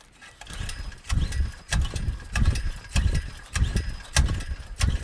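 Someone pulls the recoil starter cord on a DeWalt 4000-watt portable generator again and again with the switch off, making a series of about eight rhythmic mechanical whirring pulls, each followed by a short pause.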